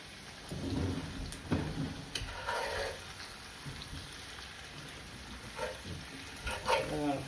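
Spoon scraping and stirring smothered potatoes in a pan before covering, with soft sizzling beneath a few distinct scrapes and clinks spread across several seconds.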